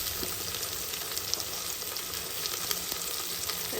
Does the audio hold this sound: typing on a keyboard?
no